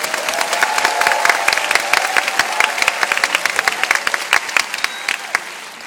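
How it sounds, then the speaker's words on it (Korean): Audience applause at a live alto saxophone jazz concert of Christian worship music, a steady dense clapping that swells over the first seconds, then thins into scattered individual claps toward the end, with a faint sustained tone underneath. "이럴 때는 박수 쳐도 됩니다."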